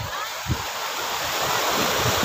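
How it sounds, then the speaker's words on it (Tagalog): Strong surf roars continuously at a beach in Sariaya, Quezon, waves crashing with a broad rushing wash and some wind buffeting. "Oh, malakas ng alon!"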